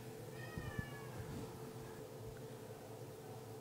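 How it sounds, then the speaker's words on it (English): A long-haired orange tabby and white male cat lets out a short meow or two early on, fairly faint against a steady background hiss, then the rest stays quiet with no talking. "this is a beautiful long-haired orange tabby and white male"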